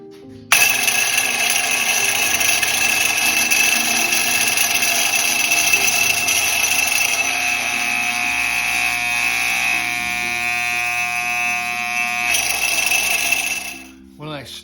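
A hair clipper converted into an airbrush cleaner buzzes loudly and steadily at close range, its motor pitch shifting slightly before it stops near the end, with a voice heard faintly in the background.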